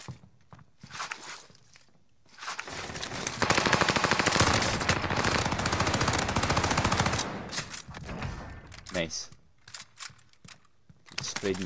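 A full magazine emptied in one long, rapid automatic burst in the video game Warzone on Rebirth Island. It is loud and sustained for several seconds, with scattered shots and clatter before and after, and voices are heard.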